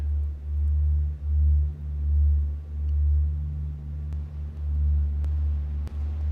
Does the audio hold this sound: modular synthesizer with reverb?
yes